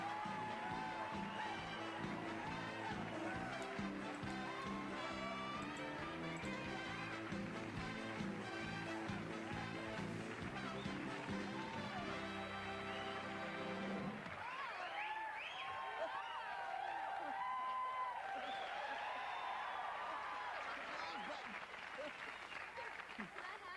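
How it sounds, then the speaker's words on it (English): Studio audience applauding to welcome Suzanne Somers, a dense, sustained round of clapping with some cheering over music, then continuing under lighter background sound. "Please give me a very warm round of welcoming applause to Miss Suzanne"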